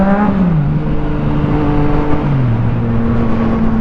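Yamaha FZ09 motorcycle engine held at a loud, close, steady drone while wheelieing, with the pitch sagging briefly as the throttle is blipped, then settling lower.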